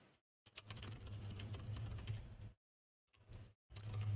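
Typing on a computer keyboard, with dense runs of key clicks in two long stretches separated by short silences, close and moderately quiet over a low steady hum.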